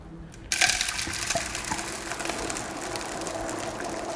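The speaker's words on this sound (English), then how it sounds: "This is what happens when you mix dry ice with some warm water." Dry ice dropped into warm water starts with a sudden splash, then bubbles and fizzes in a steady, vigorous churning close by, with no one speaking.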